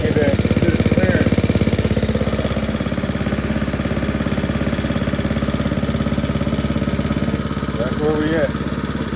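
A clone small engine fitted with a jetted VM22 carburetor runs at a steady, close, loud idle with even rapid firing pulses throughout, while someone speaks briefly over it.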